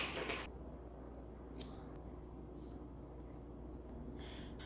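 A pair of scissors snips knit T-shirt yarn on a crochet bag, one or two soft, quick cuts near the start over a faint, quiet room background with no speech.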